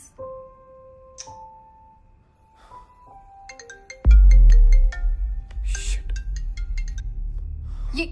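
A phone ringtone chimes at 1 a.m. in a bright melodic pattern, preceded by a few soft tones, then a loud low thump as the ringing continues.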